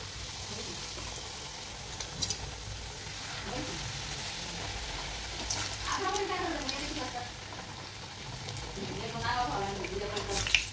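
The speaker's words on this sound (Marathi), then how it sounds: "अशा प्रकारे आपण पुऱ्यामध्ये तळून घेऊया।" Spinach puris deep-frying in hot oil, a steady soft sizzle and bubbling that continues close and quiet throughout, with someone talking over it.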